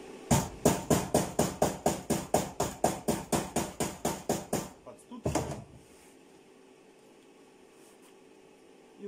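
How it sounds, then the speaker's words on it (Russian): Car sill panels being welded: about twenty evenly spaced crackling bursts follow one another quickly and loudly, then a short pause, one more burst, and near quiet. "Варим."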